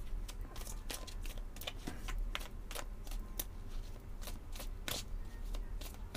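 Oracle cards from a fantastical-creatures deck being shuffled by hand, a steady run of crisp riffling flicks and soft slaps close by, continuing throughout with no talk.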